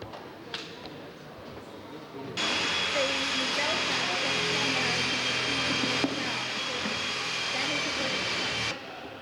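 An Avro Lancaster bomber's four Merlin engines drone in a loud, continuous broadband roar that starts abruptly and holds steady before cutting off, at a scale aircraft show.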